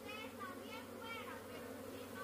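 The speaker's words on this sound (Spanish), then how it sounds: "¡Mire qué bonito está aquí con las abejas!" A swarm of bees buzzes around a person outdoors, a faint, continuous layered hum with wavering pitches as individual bees pass near and away.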